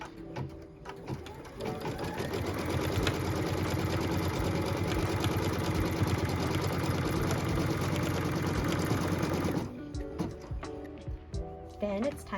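A sewing machine runs steadily for about seven seconds, stitching down a pieced quilt block along its tack-down line, with a clear even whir close by before it stops and small handling sounds follow.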